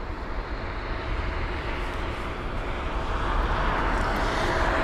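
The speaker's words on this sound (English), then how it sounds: "That was the Aegean A321neo's arrival into London Heathrow." An Aegean Airbus A321neo arriving at London Heathrow from Athens passes as a broad, steady jet roar that swells slightly louder toward the end, with no voices.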